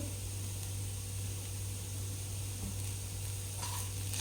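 Paneer momo stuffing with masala and coriander is sautéed in a pan, giving a soft, continuous sizzle under a steady background hum.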